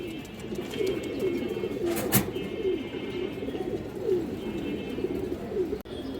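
A pair of army breed pigeons coo steadily nearby, their soft rolling calls repeating over a low background hum, with a brief sharp noise partway through.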